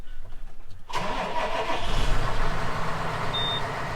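A 6150 tractor engine cranks and catches abruptly after a quiet moment, then settles into a loud, steady rumbling idle nearby.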